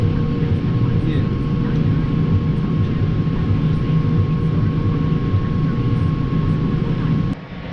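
A farm tractor on demo drives along with its engine running steadily, a loud continuous low drone with a faint tonal hum that holds until it drops away abruptly near the end.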